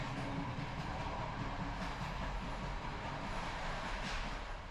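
Inside a carriage of a Wolsztyn steam train moving along the rails, a low steady rumble of wheels and car body with faint rhythmic clatter, continuous and moderately quiet, with no talking.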